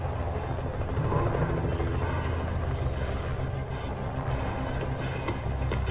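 Whirring rotor buzz of a small drone moving through a building in Rainbow Six Siege, a continuous steady hum at moderate level with no voices.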